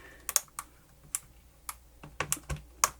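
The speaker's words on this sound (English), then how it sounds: "In such a motion, you secure every latch here on the keyboard." Scattered sharp clicks and snaps come from keyboard latches being pressed into place on a Lenovo T460 laptop, irregular and close, with quiet gaps between them.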